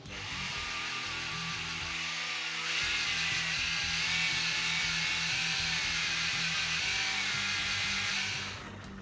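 Power sander fitted with a finer, somewhat worn grit pad working the body of a homemade electric guitar, a steady loud whine and grinding hum running continuously with no talk over it.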